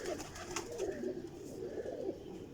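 A female Teddy pigeon coos softly in hand, with low, rolling murmurs over steady faint background noise and no talk.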